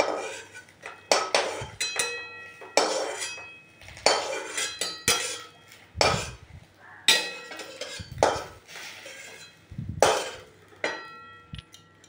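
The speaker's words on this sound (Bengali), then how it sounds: "আর ডিমগুলো আমি তুলে নিচ্ছি একটা একটা করে" Boiled eggs lifted one at a time out of a kadai with a metal utensil, sharp clinks and scrapes of metal on the pan in a steady, repeated rhythm, close up and with no talking.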